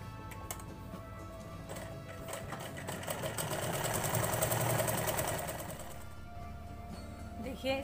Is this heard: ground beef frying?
no